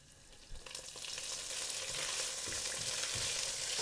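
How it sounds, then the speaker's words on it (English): Cumin seeds drop into hot oil and burst into a loud, steady sizzle about half a second in, a dense crackling fry that holds constant to the end with no voices. "Now adding in a teaspoon of cumin seeds. Let them sizzle up nicely."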